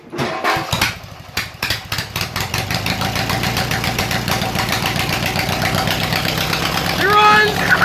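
A homemade vehicle's small engine, one that also shoots flames, cranks with a few rough bursts, then catches and runs steadily at a loud, close idle with a fast even throb, and a voice comes in near the end.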